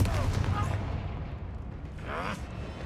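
A Confringo spell blast in a video game, heard as a rough, rumbling burst that carries through most of the moment, with voices calling out over it.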